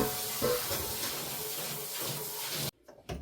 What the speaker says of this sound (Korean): 팬을 물에 한번 씻을게요